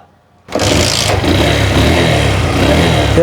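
A motorcycle fitted with a new battery starts up after a moment of quiet and then runs at a steady, loud, close idle with no voices over it.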